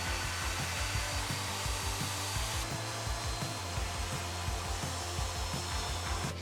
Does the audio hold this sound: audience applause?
no